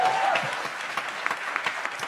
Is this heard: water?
no